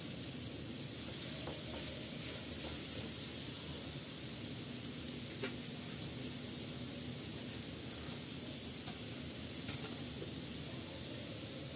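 Onions being stirred and mixed as they fry in a pan, a steady soft hiss of sizzling oil close by, with occasional faint scrapes of stirring and no talk.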